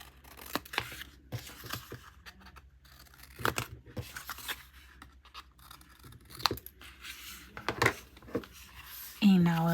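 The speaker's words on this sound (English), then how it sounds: "And we will cut the corners like this." Scissors snip the corners of a paper mini album in a handful of short, crisp cuts and rustles, close and quiet, scattered irregularly across the stretch.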